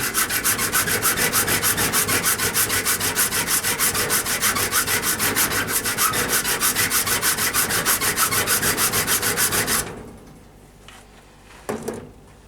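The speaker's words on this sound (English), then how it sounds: "So back to the rasp. So we just take that down." A rasp files down an ebony overlay glue line on a hickory pyramid bow in rapid, even back-and-forth strokes, loud and close for about ten seconds, then stops, leaving faint handling sounds.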